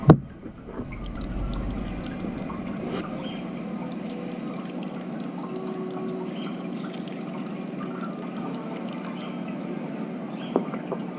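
A stoppered graduated cylinder holding water and a reagent is shaken, starting with a sharp knock and then giving a steady, close sloshing and swirling of liquid that carries on alone.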